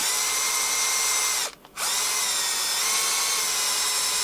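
A power drill whines at high speed, pausing briefly once before spinning back up, loud and close.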